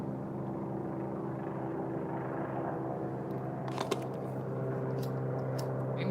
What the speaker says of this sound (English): Everybody wave to the helicopter.